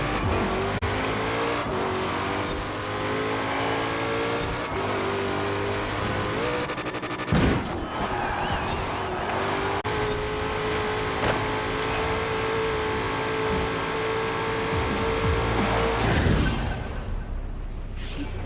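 A 2020 Shelby GT500 American muscle car roars through Forza Horizon 4, its engine droning steadily and rising in pitch through gear changes, with brief tire squeals and a shift break midway, loud and close with no talk.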